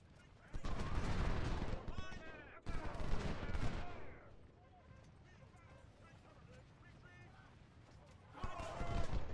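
Massed Civil War musket volleys from troops in the strategy game Ultimate General Civil War, dense bursts of crackling fire in waves with quieter gaps between them.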